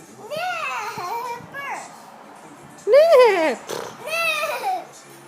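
A young child on a rocking horse makes high, squealing whinny-like sounds imitating a horse, several short rising and falling cries, some louder than others, close to the microphone.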